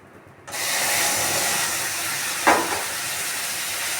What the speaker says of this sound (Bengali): ওই চিনির শিরাটা এতে দিয়ে দেব,